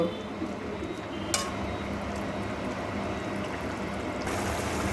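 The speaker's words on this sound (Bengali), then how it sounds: "মোরলা মাছগুলো দিয়ে খুব ভালো করে নাড়াচাড়া করে আবার একটু ভালো করে ফুটিয়ে নেব" Fried mourola fish stirred in a pan of sour raw-mango curry: a continuous simmering hiss with light utensil scrapes and one brief metallic clink, close and steady.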